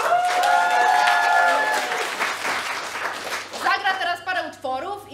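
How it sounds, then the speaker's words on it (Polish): Audience applause for a maestro at a short-form improv comedy show, clapping and crowd noise overlapping with musical tones and a loud voice, tapering toward the end. "Wielkie brawa dla Józka!"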